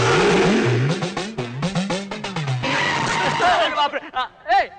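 Car tyres screech in a skid beside a Tata Safari SUV in a comic film scene, a harsh squeal near the start with voices talking over and after it.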